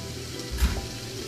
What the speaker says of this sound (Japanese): ちょっと炒めますね。